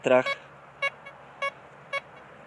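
A metal detector set to minimal sensitivity gives a short burst followed by four evenly spaced, repeated beeping tones, clear and close, with a quiet background.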